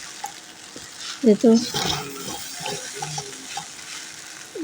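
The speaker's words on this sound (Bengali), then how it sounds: "দিয়ে আমি এখন সুন্দর করে নাড়াচাড়া করে দিচ্ছি, যেন নুডলসের লগে মশলাগুলো মিশে যায় আর কি" Noodles are being mixed with their spice packets in a pan over a soft background sizzle, with a few scraping and clattering stirring strokes. A voice briefly speaks partway through.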